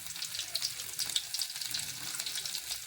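Garlic frying in hot oil with curry leaves and dried chillies for a coconut chutney gives a close, steady crackling sizzle with small pops and no voices.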